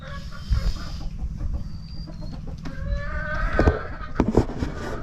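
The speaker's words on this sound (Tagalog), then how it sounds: "Ito yung mga manok oh." Chickens cluck and chatter nearby, a few sharp calls rising over a low, steady background murmur of the flock.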